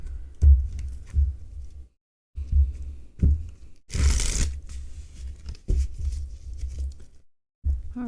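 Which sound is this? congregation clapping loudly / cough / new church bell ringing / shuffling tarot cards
shuffling tarot cards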